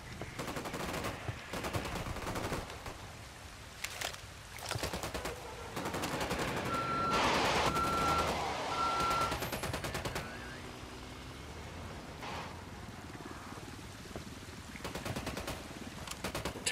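Bursts of gunfire in Ghost Recon Wildlands crack out repeatedly against a busy, noisy game backdrop, some shots sharp and close, others softer, with no talking.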